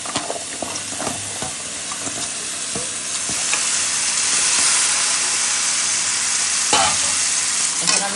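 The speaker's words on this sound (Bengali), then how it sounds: "এখন আমি এটাকে ভালো করে নেড়ে চেড়ে একটু ঢেকে দেবো" Potatoes with tomato and fried spices sizzle loudly in a pan while a utensil stirs and scrapes through them in irregular strokes; the hiss swells midway, close up, with no talking.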